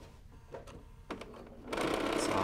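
A sewing machine fitted with a stitch-in-the-ditch foot stitches quilt binding: quiet scattered clicks and taps, then a brief rapid burst of mechanical stitching at the end.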